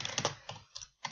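Quick bursts of keystrokes on a computer keyboard, several close clicky taps in an uneven rhythm with short pauses between them.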